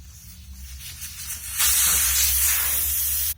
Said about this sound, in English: remove the valve core to let all the air out